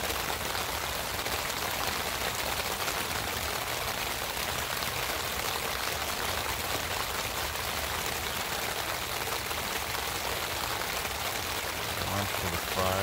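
Rain pours onto a DCF hot tent with a wood stove burning inside, an unbroken close hiss of drops spread evenly across the whole stretch, with a faint low murmur near the end.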